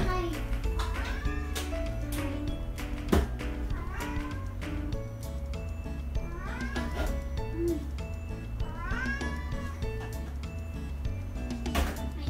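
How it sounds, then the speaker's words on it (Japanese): A clingy house cat meows repeatedly, several rising and falling cries spread across the stretch over a steady background bed of music. "ねえ、猫ちゃんすごい甘えん坊なんですよ。 抱っこ抱っこってニャーニャーって鳴きます。"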